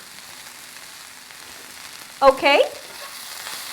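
Caramelized onions and dried tomatoes sizzling in a cast iron skillet, a soft continuous frying hiss with a brief spoken word near the middle.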